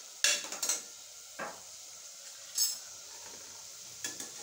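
A spoon stirs chilli, cumin and fennel powders in a pan, making a few soft scraping strokes and light metallic clinks set apart by quiet gaps, faint and close by.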